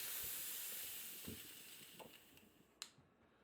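Gas hisses steadily out of an airsoft gun magazine being degassed, fading over a few seconds, with a few small clicks and one sharp snap near the end.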